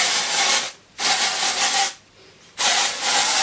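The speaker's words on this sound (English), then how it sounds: "So I'm just going to be spraying this all over my roots." TRESemmé dry shampoo sprayed onto hair roots: three loud, close aerosol hisses, each about a second long, separated by short pauses.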